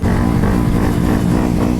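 A Honda Grom motorcycle engine rumbles loudly and close, a deep throbbing idle with slight pulsing, heard alone for a couple of seconds.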